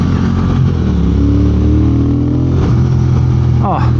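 A Triumph Speed Twin motorcycle engine revs up with a deep, throaty rumble that rises in pitch, loud and close, with a brief shift midway.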